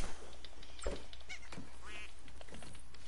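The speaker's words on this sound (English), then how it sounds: "I see a duck." A duck quacks a few times inside a video game match, fairly faint against steady game ambience and brief clicking effects.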